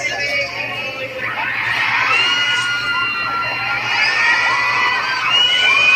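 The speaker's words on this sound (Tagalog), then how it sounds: "Grabe yung sigawan." A crowd screams and cheers continuously at a fan event, with excited shrieks and whoops rising and falling at steady loudness throughout, no clear speech over it.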